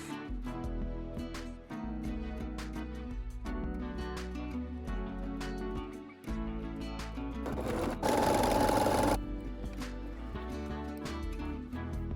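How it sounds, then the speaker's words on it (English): A sewing machine runs zigzag stitches across a torn jeans repair, a steady close mechanical whirr in long bursts with brief pauses and a louder, faster stretch near the end. "Now we're going to do some zigzag stitches down through the tears to hold everything in place."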